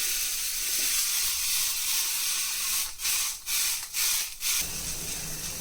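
Shallots, ginger and garlic fry in a pan for a seafood dish, giving a steady close broadband sizzle with a few brief stirring scrapes near the end and no talking.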